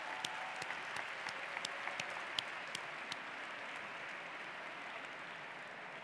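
An audience at a university graduation ceremony applauds steadily in a hall, a dense continuous wash of clapping with a few sharper nearby claps, fairly distant.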